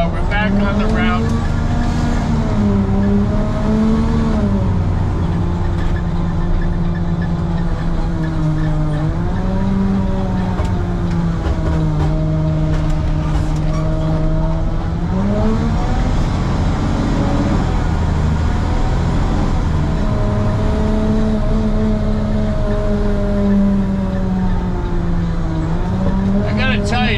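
A truck drives along its route, engine droning continuously with rising and falling pitch as it shifts and accelerates, loud and close from inside the cab, with no talk over it.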